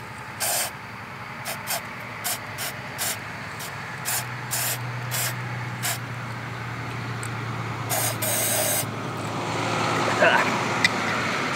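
Anti-friction spray applied to a freewheeling hub on a vehicle: a series of short, sharp hissing bursts, then a longer sustained spray near the end, over a steady low hum.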